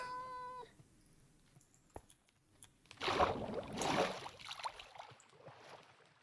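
A Minecraft cat gives one clear, harmonic meow at the start, then fainter noises and a louder rushing ambient swell follow, with no talking.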